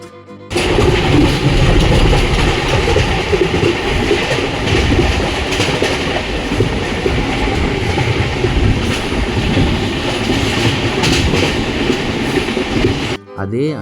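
The Pothigai Superfast Express rolls along the rails between Sengottai and Chennai, a loud, steady rumble with rhythmic clickety-clack heard from on board for most of the stretch, then cutting off abruptly near the end.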